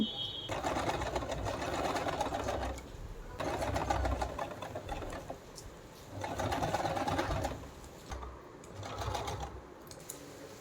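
A sewing machine stitches lace onto net fabric in several bursts of rapid mechanical chatter, each run lasting a couple of seconds with short pauses between, close and fairly quiet.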